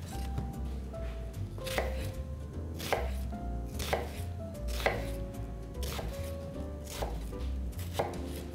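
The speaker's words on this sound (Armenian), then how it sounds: "Կտրատենք մանր։" A knife chops onion finely on a board with steady, evenly spaced taps, about one per second, close and clear over a low background hum.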